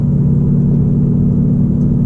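Steady, loud low rumble of a 2019 Ford Mustang GT engine under acceleration, heard from inside the car as an even drone with no talk.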